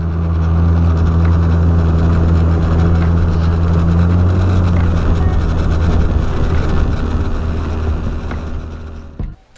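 A motorboat's steady, loud engine drone with a low hum runs continuously, then cuts off abruptly near the end.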